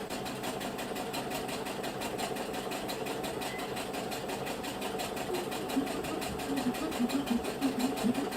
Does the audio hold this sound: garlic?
no